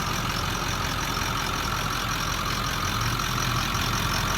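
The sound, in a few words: 2003 Ford F-250 7.3L Powerstroke turbo diesel engine idling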